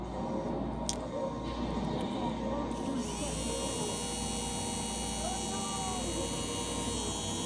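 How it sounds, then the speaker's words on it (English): A small battery-powered electric motor runs at higher current, giving a steady whine and hum with constant tonal lines that continue evenly throughout, close and moderately loud. "the motor's running a little bit more powerful"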